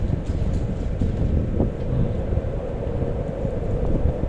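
Strong, steady wind buffets the microphone with a constant low rumble and no voices, during a solar panel installation.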